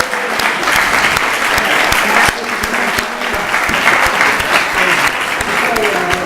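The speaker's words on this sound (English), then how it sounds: "Big round of applause." Loud, sustained applause from an audience at a Ward 6 city council candidate forum, dense clapping holding steady throughout without pause.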